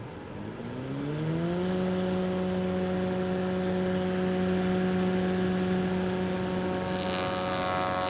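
A wood router spinning up alongside a running dust extractor, its steady whine rising in pitch over the first second or so, then holding loud and even.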